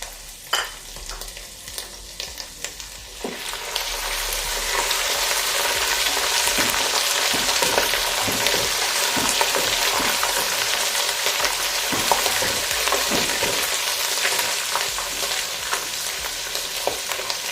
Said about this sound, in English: The residual heat that is in the oil will go ahead and cook the garlic that I've added.